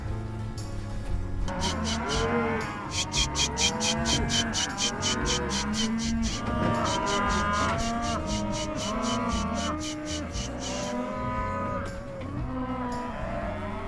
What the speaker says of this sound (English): cows hear those calves bawling and they're going to look for them